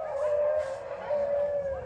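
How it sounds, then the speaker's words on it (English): Huskies at a park in the Republic of Karelia, Russia, that keeps thirty dogs for husky rides, give two drawn-out howls close by, a long wavering note followed by a second after a short gap. "And now you know why the dogs are, barking."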